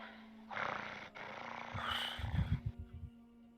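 A voice imitates a low, steady growl for a few seconds, ending in rough, pulsing rumbles, close up and fairly quiet.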